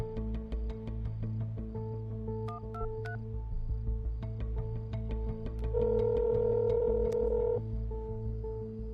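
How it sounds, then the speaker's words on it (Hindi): A telephone number is dialed as a string of distinct DTMF keypad beeps, some quick and some spaced apart, followed by a longer steady tone, all over a low background hum in a romantic film scene. "मिला रहा हूं ना पहले।"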